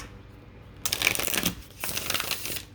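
Two bursts of rapid, crisp tarot card shuffling, close up and fairly loud, separated by a short pause, with no talking.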